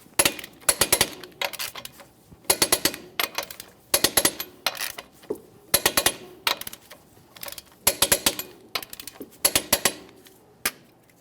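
A torque wrench tightens wheel lug nuts to 140 foot-pounds in a crisscross pattern on a car with its wheel on the ground. Sharp clustered ratcheting clicks come in separate bursts with short pauses between them, close and without talk.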